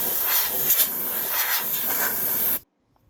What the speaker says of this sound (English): I'm using an air compressor to help me out with this.